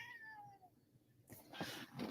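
A domestic cat meows to be let out, a short drawn-out call heard close by, then louder rustling and bumping noises take over.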